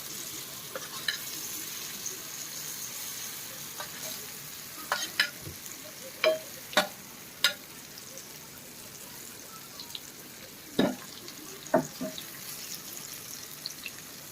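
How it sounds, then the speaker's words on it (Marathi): Raw green banana slices frying in a pan over high heat, a steady soft sizzle with a few sharp clinks of a spatula turning the pieces, no talking. "केळी फ्राय करूया तिखट"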